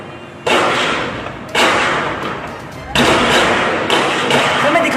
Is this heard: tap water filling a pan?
no